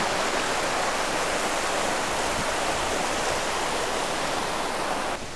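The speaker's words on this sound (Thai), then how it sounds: "บรรยากาศริมลำธารของ I am Camping" A stream flows beside a campsite in Kaeng Khoi, Saraburi, Thailand, a close, loud and constant rush of water that continues evenly, with no voices.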